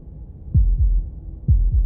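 A game heartbeat in Slay the Princess thumps twice in two close pairs, deep, loud and isolated against a faint low hum.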